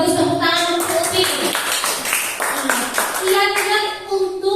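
Classroom audience clapping after a question in a school session on discipline, steady dense claps mixed with children's voices and chatter throughout, fairly close and loud.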